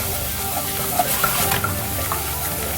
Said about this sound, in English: Keep whisking, keep whisking. I'm whisking away.